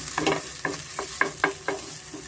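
Food frying in a little oil with turmeric while being stirred, a steady sizzle broken by about seven quick scraping strokes of a spoon against the pan, close and clear with no talking.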